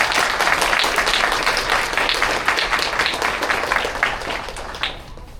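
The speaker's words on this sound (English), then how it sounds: "Let's give a big round of applause to Carly Williams, our August Student of the Month" A school audience applauds the August Student of the Month: a loud, full round of clapping that holds steady and then tapers off near the end.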